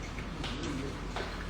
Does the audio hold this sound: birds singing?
yes